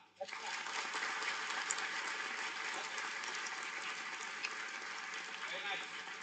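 A large audience of students at a 2023 orientation day claps together on cue, a dense, even wash of hand-clapping that starts abruptly and holds steady at moderate distance for several seconds, fairly quiet overall.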